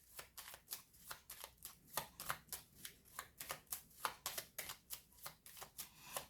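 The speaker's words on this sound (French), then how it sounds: "je vais recouvrir certaines cartes" Playing cards are handled and laid down during a tarot-style reading, giving a brisk series of soft, close slapping and sliding flicks in a steady rhythm, with no talk over them.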